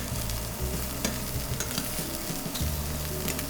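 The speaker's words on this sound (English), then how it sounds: "I just want to give it a shake to make sure they didn't stick." Wild mushrooms fry in oil in a pan that gets shaken, making a dense continuous sizzle with bursts of rattling and scraping from the moving pan, close up and without speech.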